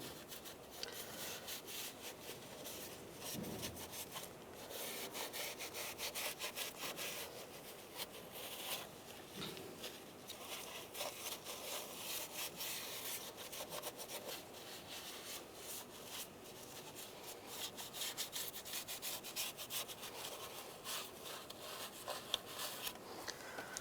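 Rag wiping down the valve cover of a 1999-2005 Volkswagen Jetta 1.9 TDI engine, a faint, continuous close-up scrubbing and rubbing with irregular swishing strokes throughout.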